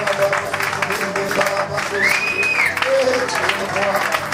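An evangelical church congregation claps steadily and rhythmically alongside sung worship, the applause loud and close under the voices and music.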